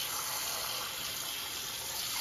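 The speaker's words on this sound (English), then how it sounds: "Now what I'm going to do is I'm going to put a little water in. I'm going to add some water." Water pouring into a pot over chicken pieces, a steady broadband gush running continuously at close range with no break and no voices.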